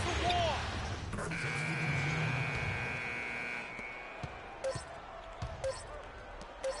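End-of-quarter buzzer in an NBA 2K16 basketball game, a sustained loud electronic tone lasting a couple of seconds amid arena crowd noise, followed by sharp ball bounces, with a commentator talking.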